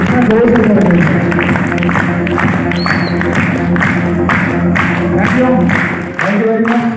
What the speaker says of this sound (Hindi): भाई संजय जी के लिए जोरदार ताली हो जाएगी।